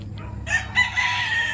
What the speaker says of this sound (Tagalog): Ito palahi na natin, ito stag.